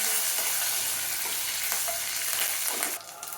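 Mustard seeds, dal, cumin, fenugreek, crushed garlic and curry leaves fry in hot oil in a pan, giving a steady, close, bright sizzle with light crackles and a stirring scrape near the end, with no voices.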